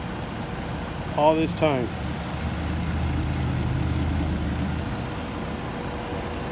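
A 2013 Ford Taurus Police Interceptor AWD with a 3.5 liter engine idles smoothly after a long run, giving a steady low hum throughout. A voice speaks briefly near the start.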